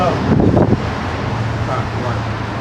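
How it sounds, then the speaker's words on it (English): Wind buffets the microphone in a steady low roar, with a gustier burst early on and a low hum running beneath. "it's fucking windy out here"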